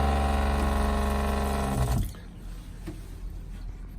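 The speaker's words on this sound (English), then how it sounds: "There's a little button here that turns on the pump." A small 12-volt water pump in a pop-top caravan hums with a steady tonal whine for about two seconds, then cuts off, leaving faint trickling and quiet room noise.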